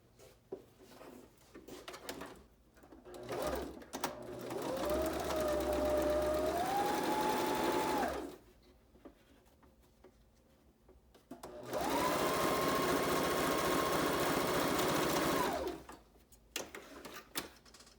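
Sewing machine stitching layers of fabric for a face mask, two long runs of steady mechanical whirring with rising and falling pitch, separated by quiet handling noises.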